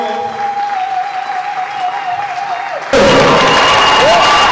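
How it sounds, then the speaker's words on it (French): A church congregation at a faith leaders' conference in Manchester bursts into loud, close applause after a few seconds of quiet organ-like tones, the clapping dense and sustained to the end. "Acclamons pour le Seigneur."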